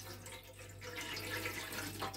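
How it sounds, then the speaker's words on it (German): A splash of water is poured into the pot of a Ninja AF400 air fryer while a pork roast is being prepared, a steady close trickle and gurgle over a low background hum. "trotzdem da mal einen Schluck Wasser reintun"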